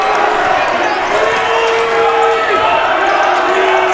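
A packed gym crowd at a men's college basketball game cheering loudly, a constant roar with a commentator talking over it and sneaker squeaks cutting through.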